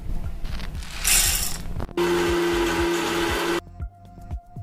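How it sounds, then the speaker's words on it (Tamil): An electric mixer grinder whirs loudly for about two seconds, grinding roasted gram with ground mutton and masala, framed by clattering and rattling of the jar and lid before and after. "இப்போ கடைசியாக இந்த பொட்டுக்கலை போட்டு நம்ம அரைச்சி எடுத்துக்கலாம்"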